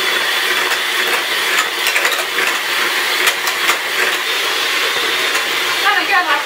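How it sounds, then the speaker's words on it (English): An electric whisk at full speed, whisking a pudding mixture in a bowl, a loud, close, continuous motorized whirr with rattling clicks of the beaters against the bowl throughout. "So now we're just going to put that on full speed and whisk the living daylights out of it."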